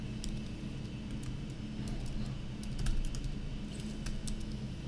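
Computer keyboard typing heard as faint scattered key clicks over a steady low hum, some taps louder than others, with no voices.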